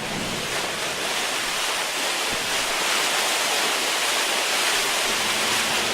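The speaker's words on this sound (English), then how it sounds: "Now, turn the stem until it is fully opened. The discharge force should be noticeably greater." A fully opened fire hydrant discharges water in a firefighter training drill, a loud, constant rushing roar that holds steady and unbroken throughout.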